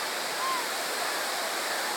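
Hogenakkal waterfall pouring, a loud, steady broadband roar of falling water close at hand, unbroken throughout.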